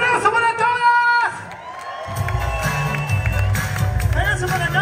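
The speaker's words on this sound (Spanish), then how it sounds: "¡Aplauso para todas!" An audience at a Brincos Dieras comedy show in Tucson, Arizona breaks into loud cheering, whoops and applause for the women on stage, a swelling roar that follows a host's amplified voice and music.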